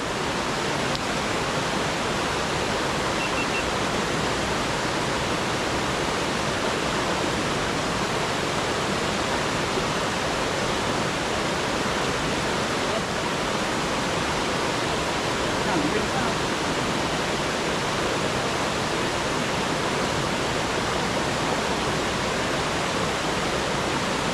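A river swelling suddenly and rushing past close by, a loud steady roar of churning water filling the whole stretch without pause.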